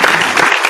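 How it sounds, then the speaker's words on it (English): A brief burst of applause, a short dense spatter of clapping that stays fairly loud for under a second. "that's a little round of applause for that"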